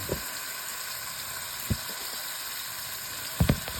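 Salisbury steak meat sizzles in a hot pan with a steady hiss, broken by a few brief pops and sputters.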